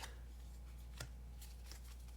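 Tarot cards being shuffled by hand, soft papery riffles and a few sharper snaps over a low steady hum, close but quiet, with no talking.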